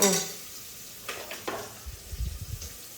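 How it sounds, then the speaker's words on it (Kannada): Chopped onions sizzle and hiss steadily in a pan for a field bean vegetable pulao, with a few scraping stirs and light utensil clinks near the end. "ಈರುಳ್ಳಿ ಹಾಕಿ ಚೆನ್ನಾಗಿ ಹಸಿ ವಾಸನೆ ಹೋಗೋವರೆಗೂ, ಸ್ವಲ್ಪ ಕೆಂಪಗಾಗೋವರೆಗೂ ಫ್ರೈ ಮಾಡ್ಕೋಬೇಕು"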